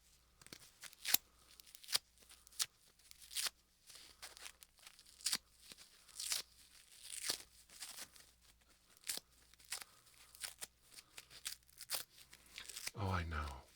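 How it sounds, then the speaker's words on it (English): Repeated soft tearing and crinkling as a small sample is pulled off, recorded close up in binaural ASMR style, the quiet rips and rustles coming in irregular bursts. "So we'll just tear a little bit out."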